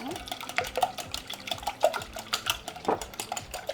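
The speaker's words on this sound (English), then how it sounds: "This is 6 eggs, room temperature. And I am just going to get those whisked." Six room-temperature eggs being whisked in a bowl, heard as quick, close, rhythmic clinking and sloshing strokes for a few seconds.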